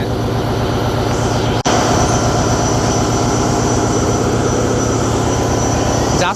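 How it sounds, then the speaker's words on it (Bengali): Twin Yanmar diesel engines of the MV Manam passenger launch on the Barisal to Dhaka river run drone in a loud, constant heavy rumble with a steady throb. One brief dropout comes early, and no voices are heard. "এতদিন তো বাসের ইঞ্জিন সাউন্ড শুনছেন এখন লঞ্চেরটা শুনুন"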